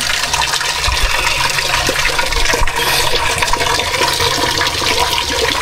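Water gushes steadily into a container, a loud, continuous rushing pour that fills the whole span without pause and with no talking over it.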